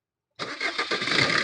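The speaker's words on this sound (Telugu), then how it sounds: "సింగిల్ సెల్ఫ్ అయితే బండి స్టార్ట్ అవుతుంది" After a moment of silence, the diesel engine of a 2017 Maruti Ciaz ZDi catches on a single crank and settles into a steady, close idle.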